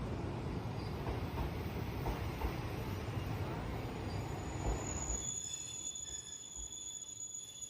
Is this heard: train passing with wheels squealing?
yes